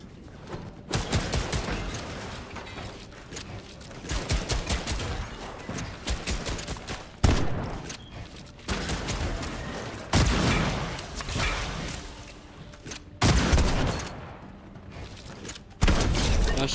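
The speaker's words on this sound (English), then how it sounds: "Bro, that shotgun hits." A new shotgun firing in a video game, several loud booming blasts spaced a few seconds apart, each followed by mechanical clacking and reloading, close and without talk.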